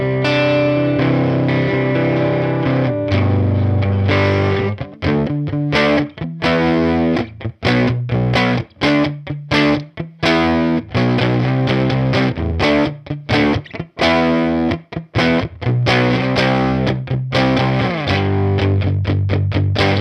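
Electric guitar played through a Universal Audio Woodrow 55 amp simulation with heavy distortion, loud sustained chords and riffs broken by brief stops, alone with no voices.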